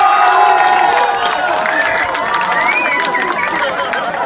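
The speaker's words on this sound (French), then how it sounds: "Donc tout le monde peut les applaudir les gars." A crowd cheers and shouts continuously at an outdoor techno event held against repression, a dense roar of many voices with scattered whoops and some applause mixed in, loud and steady throughout.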